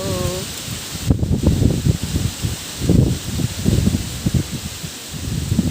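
Strong gusts buffet close by at Dreamland, DRT, in a rumbling, roaring rush, swelling and easing in uneven waves.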